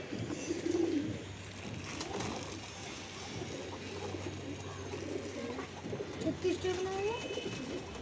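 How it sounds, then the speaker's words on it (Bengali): Pigeons on a rooftop coo in soft, rounded calls that repeat a few times across the stretch, fairly close, over a low background hum with faint talk nearby. "আসেন আমরা কবুতর দেখি।"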